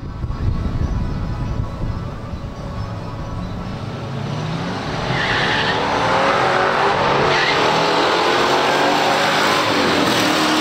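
A 1967 Pontiac GTO and a 1968 Hurst Olds roar and rise sharply as they launch in a pure stock drag race, with broadband rumble swelling midway and holding loud to the end.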